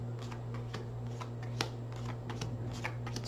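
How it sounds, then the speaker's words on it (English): A tarot deck is shuffled by hand: soft repeated riffling and flicking card sounds in quick bursts, close and fairly quiet over a steady low electrical hum. "I'm going to shuffle."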